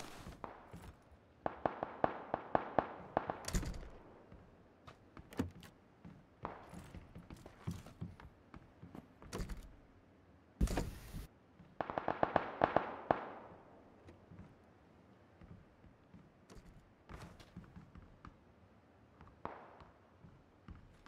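Gunfire in the battle-royale game PUBG, with bursts of rapid automatic shots and scattered single cracks, some close and loud, others more distant, over quiet gaps.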